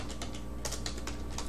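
Brief, close typing on a computer keyboard, a handful of light key clicks in quick succession over a steady low background hum.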